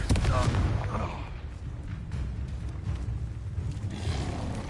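Blasting spell explosions in the video game Hogwarts Legacy: a loud booming burst at the start followed by rumbling, crackling blast noise that carries on steadily throughout.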